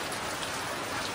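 Heavy monsoon rain pours steadily and loudly, a dense, unbroken hiss of drops drumming on surfaces with no pauses.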